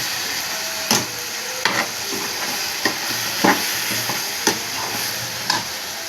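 Mutton sizzles in a pan with chilli powder, mutton masala and turmeric as it is sautéed, a continuous hiss punctuated by about eight regular scraping stirs and knocks of a spoon against the vessel.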